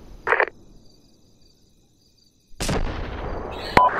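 Mortar rounds in a video game, a short sharp thump, a quiet gap, then a louder blast that rumbles on and is capped by a sharp crack near the end.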